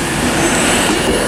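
A Class 390 Pendolino electric train, unit 390131 from London Euston, arriving at Manchester Piccadilly: a loud, steady broadband rumble and wheel roar close by, with faint squealing overtones and no speech.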